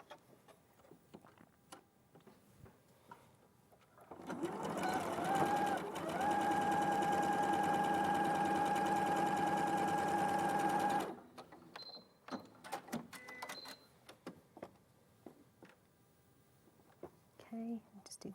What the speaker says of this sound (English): so I'll just quickly sew that in.